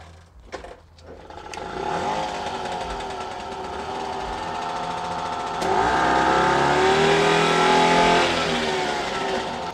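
A homemade moped's small engine sputters into life after a few clattering pulls, then settles into a steady buzzing run that rises in pitch as it revs up, loud and close with no talking.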